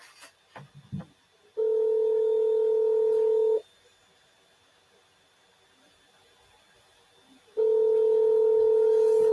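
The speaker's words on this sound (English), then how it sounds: "Nobody is answering phone." A telephone call goes unanswered, with a steady two-tone ringback sounding loud and close in two long bursts about four seconds apart and near silence between them, after a few brief clicks at the start.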